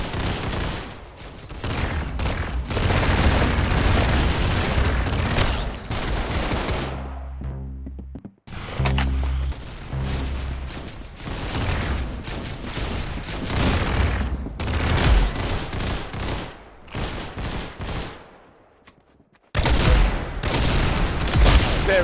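Sustained rapid gunfire in Roblox Arsenal, dense bursts of shots running almost nonstop with a couple of brief pauses, loud and close with no talking over it.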